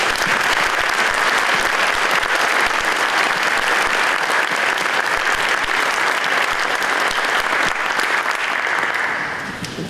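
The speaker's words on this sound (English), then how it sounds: "Please give these deserving students a round of applause." An audience at a high school scholarship awards night claps for student recipients, a dense, sustained round of applause from many hands that holds steady for nearly ten seconds before tapering off at the end.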